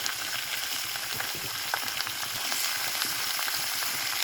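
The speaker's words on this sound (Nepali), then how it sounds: "गिरिराजको मासु बनाउँदैछु" Giriraj chicken meat frying in a pan, a steady close crackling sizzle with scattered pops running throughout, no voices.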